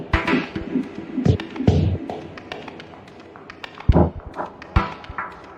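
A slow, spacious dub techno groove with deep thumping kicks and clicky percussive taps, washed in a roomy reverb tail that lingers between hits.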